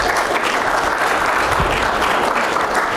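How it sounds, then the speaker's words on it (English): An audience at a presentation claps in a dense, steady burst of applause lasting a few seconds, fairly close and loud. "You want to applaud? Go ahead, applaud."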